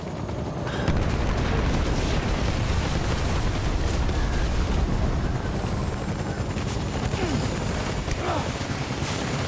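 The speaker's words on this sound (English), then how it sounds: "Who's shooting the shit out of me?" Heavy gunfire in Death Stranding pours onto the player in a dense, continuous barrage of rapid shots and booming impacts. It is loud and close, with a voice speaking over it.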